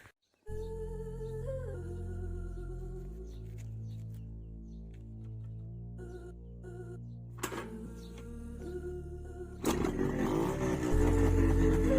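A Minsk motorcycle engine runs close by at a steady drone, then revs harder and grows louder toward the end, with a few clunks and mechanical rattles mixed in.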